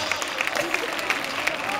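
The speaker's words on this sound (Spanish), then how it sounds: "Vamos arriba, palmas." Rhythmic clapping from a crowd keeping time at a bull-running event in Fitero, Navarra, steady and moderately loud, with voices mixed in.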